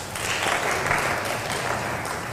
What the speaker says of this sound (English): Can give him a hand clap.